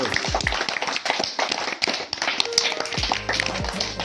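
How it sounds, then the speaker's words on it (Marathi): Children in a classroom at a school for the blind clap their hands in a quick, uneven burst of nearby claps over roughly four seconds, with some background noise and brief voices. "आता 5 जणी सर्वांनी टाळ्या वाजवा रे"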